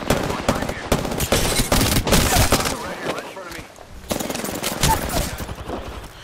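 Rapid automatic weapon fire and single shots from the battle royale game Apex Legends, dense bursts repeating across the clip, loud and close, mixed with game effects and a player's voice talking over it.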